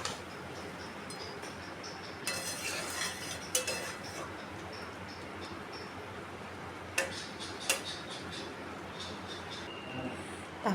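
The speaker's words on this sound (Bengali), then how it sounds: "গরম মশলাটাকে আমি সব তরকারিটার সঙ্গে মিশিয়ে নিচ্ছি" A spoon scrapes and clinks in a pan as garam masala is stirred into chachra, a Bengali wedding-style vegetable curry, with intermittent metallic taps and scrapes over low kitchen background noise.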